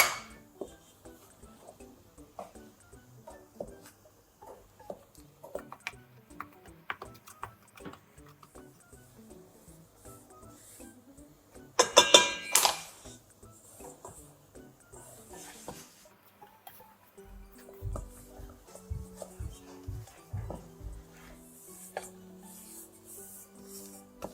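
Low-gluten flour and lard are rubbed and kneaded by hand into an oil pastry dough, giving soft, faint rubbing, patting and squishing noises in an uneven rhythm with a brief louder scuffle midway.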